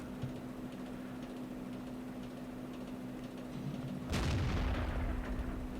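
A tank gun firing in World of Tanks: a single sharp boom with a decaying rumble near the end, following a quiet stretch of steady engine hum and low background noise.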